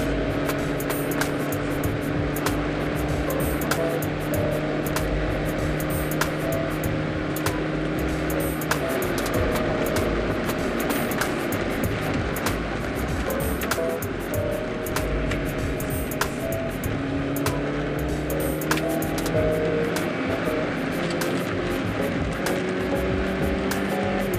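Steady hum of a Volkswagen Polo Sedan engine while driving, with a low drone and rising whine over continuous road noise and occasional ticking clicks.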